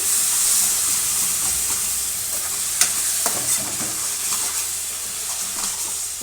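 Taro root (chemagadda) pieces sizzle steadily in a hot pan, a close, continuous frying hiss broken by a few scraping stirs and faint clicks.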